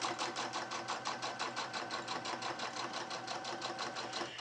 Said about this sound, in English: I'm just going to sew 1/4 of an inch straight down.